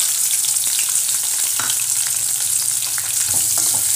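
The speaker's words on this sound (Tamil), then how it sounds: "இதையும் போட்டு நல்லா வந்து வதக்கிக்கிடணும்" Three sliced onions sauté in a pan for a gram dal gravy, giving a steady, close sizzle with scattered stirring clicks throughout and no talking.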